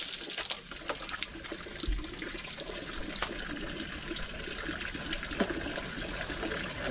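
Water splashes and pours steadily while people bathe at an outdoor camp, a continuous wet rush with occasional louder splashes, fairly close.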